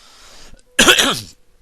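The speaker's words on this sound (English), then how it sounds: "That was me coughing and clearing my throat." A single loud, harsh cough and throat clear, close by, after a brief quieter rasp, then silence.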